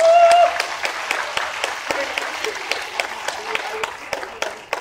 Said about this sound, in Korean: 여러분 반가운 손님들에게 큰 박수로 환영해 주시기 바랍니다.